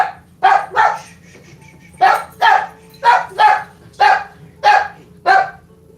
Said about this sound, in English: dogs might get loud